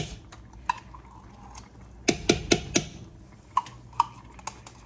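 Spoon clinks against a pot while tomato paste goes into lasagna sauce: a quiet scrape, then a quick cluster of four sharp metallic taps in the middle and a few more isolated clinks, with no talking.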